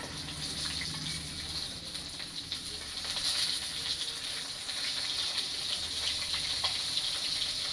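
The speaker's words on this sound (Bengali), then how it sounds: "দেখো কড়া কড়া করে এরকম করে ভেজে নিতে হবে" Rohu fish frying in hot oil in a pan gives off a dense, continuous sizzling hiss that stays loud and even throughout, with faint crackles and no talking.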